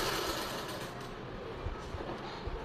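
A sewing machine stitching a silk suit, sleeve being joined to the body, running in a continuous dense whirring drone at close range, steady throughout with no talk.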